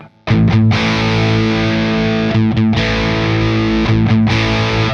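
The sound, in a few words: electric guitar single coil pickup, distorted amp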